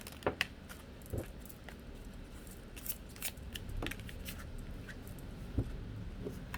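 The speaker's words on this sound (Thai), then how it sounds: "มันก็จะทำให้ การสับไพ่ มันออกมาได้ง่ายนะคะ" A small deck of tarot cards being shuffled, soft riffling and flicking clicks in irregular bursts, close and quiet against a low background hum.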